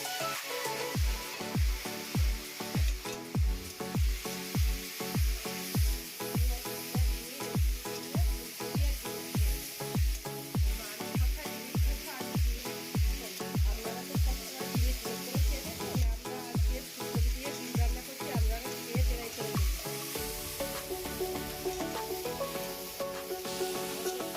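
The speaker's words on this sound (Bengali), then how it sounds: "আর এই ফুলকপিগুলো এই ডিমের তেলের মধ্যে দিয়ে দিচ্ছি" Cauliflower pieces fry in hot oil left over from frying eggs, giving a steady close sizzle. Regular rhythmic scraping of stirring runs through most of it and stops near the end.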